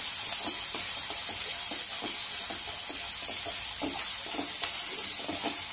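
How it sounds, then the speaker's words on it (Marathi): Onions frying in a pan for a dry shev bhaji, a loud continuous sizzle with repeated soft stirring strokes of a spoon, close and steady with no talk. "आता आपल्याला चांगले कांदे परतून घ्यायचे आहे"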